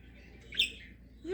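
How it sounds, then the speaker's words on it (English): A pet budgie gives one short chirp at close range, followed by a rising squeaky call near the end, with faint room noise behind. "She is such a sweet bird."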